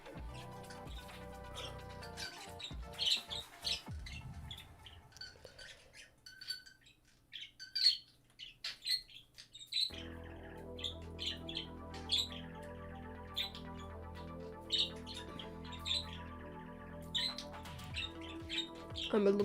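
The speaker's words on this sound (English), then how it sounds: "cause he's a bird." Pet bird close to the microphone, letting out scattered sharp chirps and squawks over a steady low background hum, intermittent throughout with a brief quieter stretch in the middle.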